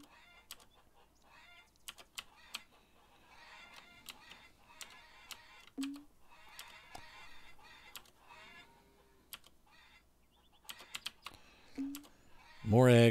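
Mouse and keyboard clicks while collecting eggs in the farming game Farmer's Dynasty, sparse and faint, mixed with chicken clucks and soft game sounds before a loud burst at the end.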